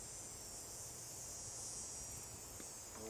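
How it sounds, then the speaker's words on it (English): Cicadas singing on a warm summer day outdoors, a constant high, shimmering buzz droning faintly and evenly in the background with low rumbling ambience beneath. "Cicadas are singing."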